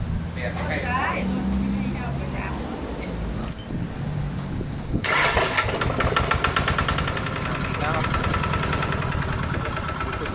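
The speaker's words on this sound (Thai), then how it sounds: "เดี๋ยวจะลองเครื่องสตาร์ทให้ดูนะครับ เราลองฟังเสียงกันนะครับ" A Kubota 140DI Plus 14 hp single-cylinder diesel engine is started after a voice talks nearby; it fires abruptly and settles into a loud, close, steady knocking idle.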